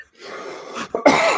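A man coughs a few times in a podcast recording setting, starting with a softer rasp and ending in a louder, harsher burst close to the microphone.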